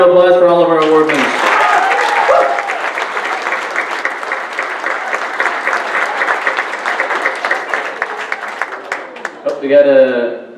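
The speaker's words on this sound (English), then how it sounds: "And how about a big round of applause for all of our award winners?" Audience applause for award winners at a 2016 OHA graduation ceremony: a sustained wash of many hands clapping that swells after a second, holds steady for roughly eight seconds, then thins to scattered claps as talking resumes.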